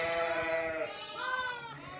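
Newborn lambs bleat close by, a couple of wavering, tonal cries in quick succession with no talk over them.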